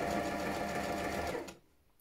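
A sewing machine stitches stretch bra fabric in a fast, steady whir that stops abruptly, followed by a brief quiet pause.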